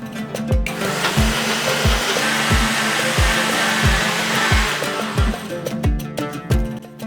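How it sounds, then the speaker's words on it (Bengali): An electric mixer grinder whirs loudly and close as it grinds mung dal with green chillies and a little water, its motor note pulsing in regular repeated surges before briefly cutting and restarting. "ডালটা শুধু বাটবো না, সাথে দিয়ে দিচ্ছি কয়েকটা কাঁচা লঙ্কা। এরপরে সামান্য জল দিয়ে এটাকে বেটে নেব।"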